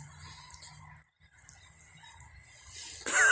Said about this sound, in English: What do these birds eat?